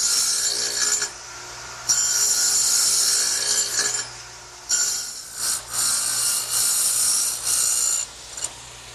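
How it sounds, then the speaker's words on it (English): Radial arm saw fitted with a stacked dado blade plowing wide grooves in wood, loud bursts of cutting noise in repeated passes with short pauses between them. "I've set the radial arm up with a dado cutting blade."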